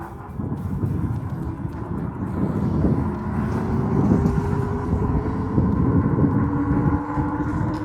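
A Coswheel T16 electric bike accelerates at full throttle without pedalling, its motor whine rising steadily in pitch beneath loud rushing wind and road rumble, continuous and close throughout.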